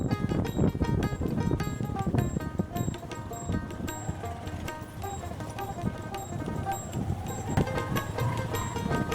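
Hooves of a cargo-pulling horse clip-clop in a quick, uneven rhythm on a Padma river char, close and clear, with voices talking faintly at times and birds chirping in the background.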